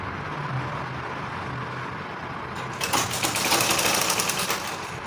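Sewing machine topstitching a cuff on a women's long sleeve, starting after a quiet stretch of low room hum and then running in a fast, even rattling stitch for the last couple of seconds, close and moderately loud.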